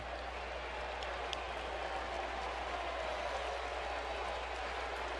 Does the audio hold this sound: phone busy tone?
no